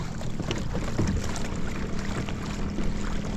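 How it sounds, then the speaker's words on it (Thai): A boat motor runs at full throttle on a reservoir, a steady, loud, low drone with wind and water rush sweeping over it without pause. "ใช้เครื่องสุดแรงนะครับ ไม่ได้พายพายทำไมให้เหนื่อย"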